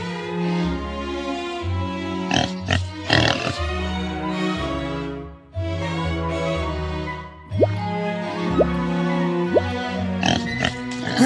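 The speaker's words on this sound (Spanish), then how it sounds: "¡Un cerdo!" A pig oinks in short grunting bursts over a steady, bright musical backing, with several separate calls spread across the clip.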